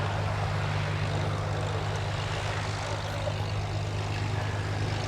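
Two BAC Strikemaster jet aircraft at a summer airshow at Duxford make a continuous, even engine roar throughout, at a steady distance with no talk.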